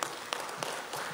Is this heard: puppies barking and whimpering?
no